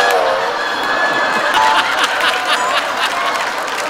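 A comedy-show audience claps and cheers in a dense, loud burst of applause, mixed with laughter and some chatter throughout.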